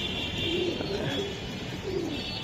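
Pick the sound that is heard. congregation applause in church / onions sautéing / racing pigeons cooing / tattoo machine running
racing pigeons cooing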